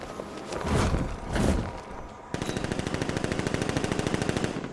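Automatic gunfire in the video game Batman Arkham Knight, a sustained rapid-fire burst of evenly spaced shots that starts abruptly after two dull thumps, close and loud.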